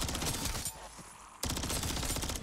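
Rapid automatic gunfire from Modern Warfare III Zombies, loud, dense bursts that cut out briefly mid-clip and then resume just as strongly.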